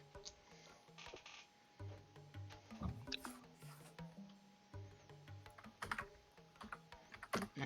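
Computer keyboard typing sounds as irregular bursts of soft clicks and clacks, fairly quiet and close, with brief pauses between runs of keystrokes.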